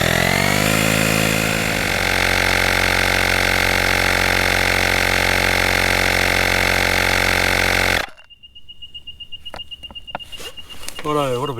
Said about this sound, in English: we'll also check how long it takes to pump up from dead flat